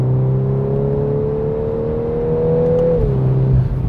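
A 2022 VW Golf R launches hard using launch control on a rainy road, its engine droning with a rising, steady tone heard from inside the cabin, then briefly dipping at a gear change.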